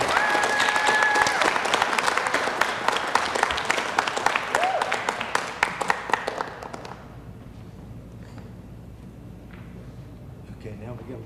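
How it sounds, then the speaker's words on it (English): Applause from a crowd at a city council session, dense clapping with some voices and whistles underneath for about seven seconds, then dying away into quieter room noise and scattered footsteps. "Let's give her a round of applause"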